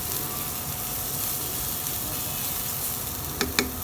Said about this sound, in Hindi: इसमें ऐड करेंगे 1 टेबलस्पून चॉप्ड गार्लिक, इसे लाइटली सौटे करेंगे जब तक इसकी फ्रेग्रेंस नहीं आ जाती